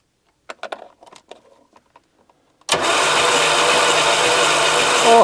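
A Żuk van's engine is cranked at full throttle during a compression test on a cylinder with almost no compression. A few scattered tool clicks and taps come first, then a sudden loud, even, sustained whirring crank runs to the end.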